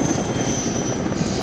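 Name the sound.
helicopter flying overhead, from a video game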